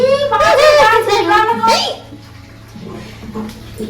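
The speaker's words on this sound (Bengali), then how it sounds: "দেখো তনু আসিয়া দেখো জল ভরিতেছে কি" Water pouring into a container at home, a steady splashing rush under a voice and a voice, fading down toward the end.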